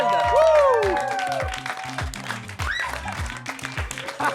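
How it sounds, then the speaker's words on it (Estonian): An audience at a game event breaks into applause: dense clapping with whistles and cheers, voices mixed in, fading slightly then holding steady. "Aplaus Liisile ja Arlesele ka"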